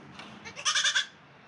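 A lone baby goat bleats in a quick run of high, wavering cries, the strongest in the middle of the short stretch, with no voices over it.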